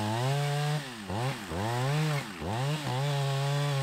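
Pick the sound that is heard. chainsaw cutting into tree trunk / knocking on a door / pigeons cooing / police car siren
chainsaw cutting into tree trunk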